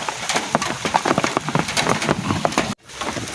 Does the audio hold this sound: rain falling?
yes